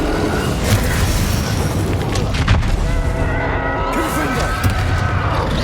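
Bombarda blasting spell in the Hogwarts Legacy video game: booming explosions and crackling impacts over a dense rumble of combat noise, with a few sharper bursts standing out, amid shouted spell voices.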